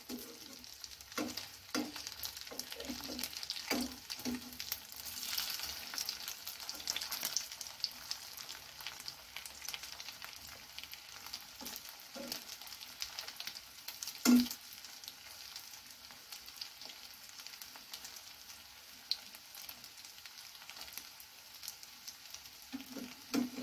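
Egg cutlets shallow-frying in oil give a soft, steady sizzle with scattered crackles and one sharper pop partway through, close by with no talking.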